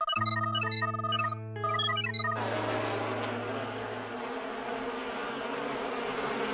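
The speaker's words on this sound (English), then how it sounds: "I mean, they're just bees." In a Dino Squad cartoon, a short electronic beeping melody gives way to a dense, steady buzz of bees that fills the rest of the scene without talk.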